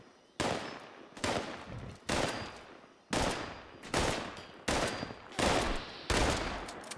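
Gunfire in the video game Fallout 76 comes in seven sharp, loud bursts spaced about a second apart, each a sudden crack or short rattle that trails off before the next, with no talk.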